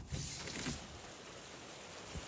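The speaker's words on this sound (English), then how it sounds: "to work on stuff for the last 3 days, and again, non-stop rain." Non-stop rain pours outside, a dense even hiss with occasional heavier drips and patters, steady throughout and fairly close.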